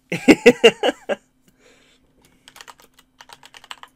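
Someone types on a computer keyboard, with a burst of loud clacks at first, then a pause and softer, scattered keystrokes further off.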